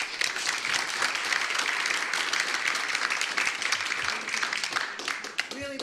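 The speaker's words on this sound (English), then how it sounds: "So let's give him another round of applause" Audience applause at a law school event, dense sustained clapping from a crowd that fades toward the end as a voice begins to speak.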